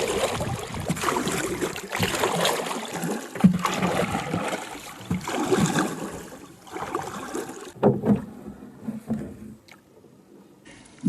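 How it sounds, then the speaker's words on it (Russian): An oar works through cold, windy water from a small boat on a fishing trip, with repeated swishing strokes and splashes against a gusty rushing background that quiets near the end. "сейчас можно и помахаться веслом"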